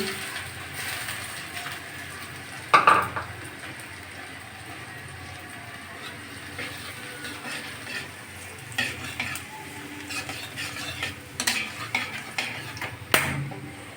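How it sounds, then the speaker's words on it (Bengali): Chopped ginger frying in a very hot wok of oil for vegetarian dal tadka, giving a steady sizzle with a few louder spits and utensil scrapes, close and without talk. "আদা কুচিগুলো দিয়ে দিচ্ছি"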